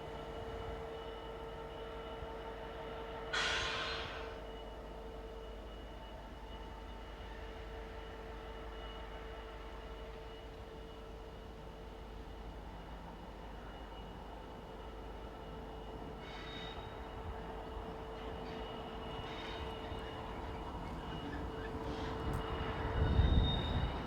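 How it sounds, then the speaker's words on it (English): A Class 66 diesel locomotive makes a run-round movement with a rake of empty hoppers near a quarry, a steady distant engine drone and rolling rumble with a brief squeal and clanks, no talk. "66613, which is seen here during a run-round movement after it had brought a rake of empty hoppers from Tunstead sidings"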